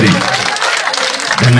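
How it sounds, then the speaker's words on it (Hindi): A crowd claps in welcome for a speaker at a village political rally, a brief loud burst of dense applause with voices mixed in over it. "जोरदार तालियों से स्वागत करें"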